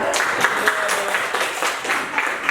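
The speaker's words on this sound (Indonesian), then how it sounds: "Tepuk tangannya" Steady applause from a group, continuous clapping throughout with a few faint voices mixed in.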